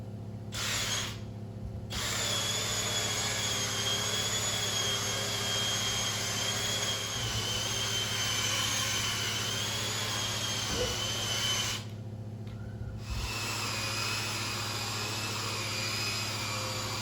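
A carpet extractor cleans dirty carpeted stairs with a steady loud whining vacuum roar, close by. It drops out briefly twice, then resumes.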